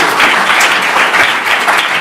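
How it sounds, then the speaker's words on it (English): Audience applause at a coaching conference, a dense steady patter of many hands clapping loudly throughout, with no voices standing out. "Ladies and gentlemen, a round of applause for our mate."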